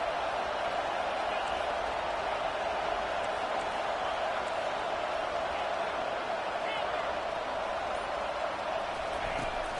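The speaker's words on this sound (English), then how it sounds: "This crowd bringing the energy and noise early." Stadium crowd noise from the NCAA 25 college football video game, a steady roaring wash of cheering at moderate level with no clear breaks.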